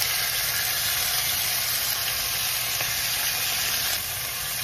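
Chicken pieces sear in a very hot pot on a high stove flame, giving a steady, loud, continuous sizzle with a faint hum beneath and no talking.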